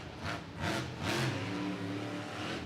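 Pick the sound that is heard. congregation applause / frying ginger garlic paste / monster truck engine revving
monster truck engine revving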